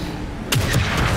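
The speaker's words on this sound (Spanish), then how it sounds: "Buen disparo, Sebastián." A sniper rifle shot in the video game The Evil Within 2 cracks once, sharp and close, followed by a brief rumbling echo.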